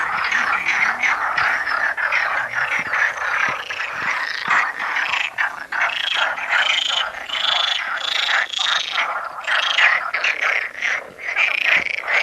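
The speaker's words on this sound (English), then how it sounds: "Can you hear all those frogs croaking away?" A chorus of frogs croaks at Lagoa do Fanal lake on Madeira, many overlapping rapid, rattling calls pulsing continuously and fairly close, with no talking.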